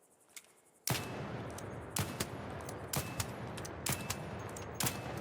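Gunfire in the video game ARC Raiders from a weapon fitted with compensator 3: five loud single shots at roughly one-second intervals, each followed by a reverberant tail over steady background ambience.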